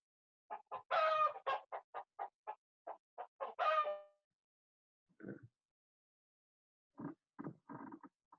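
Chickens cluck in a rapid run of sharp, close calls, then go quiet, and a few more scattered clucks follow. No one speaks.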